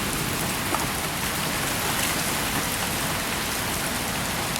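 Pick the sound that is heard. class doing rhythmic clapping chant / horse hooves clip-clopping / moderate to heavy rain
moderate to heavy rain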